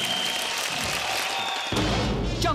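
A studio audience claps steadily on a Taiwanese television variety show. The clapping is thick and continuous, and a louder musical backing swells in partway through.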